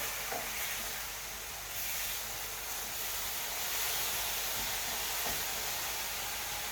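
Bacon sizzles steadily in a frying pan, a soft continuous crackling hiss at moderate distance with no talk over it.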